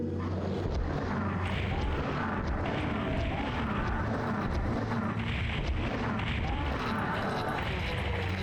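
Rocket explosions in the video game PSX Doom, Master Edition beta, sound as loud, continuous rumbling blasts that roll into one another across several seconds of heavy, dense combat noise.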